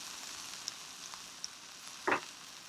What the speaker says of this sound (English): Oh yeah, you hear that sizzle.